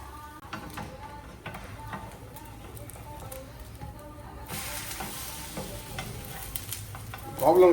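French toast slices fry in butter in a pan, a soft steady sizzle with faint scraping, growing a little brighter and louder in the final seconds.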